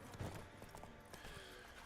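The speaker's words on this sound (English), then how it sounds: "if you hold down the gallop button while being on the horse is supposed to just stick to the road and gallop and just follow the road" A horse gallops along a road in The Witcher 3, its hooves clip-clopping in a quick uneven rhythm with a brief whinny-like tone, heard at moderate level without speech.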